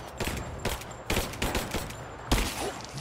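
Bursts of gunfire from the Rise of the Tomb Raider video game, several sharp volleys spread across a few seconds with a continuous game soundscape underneath.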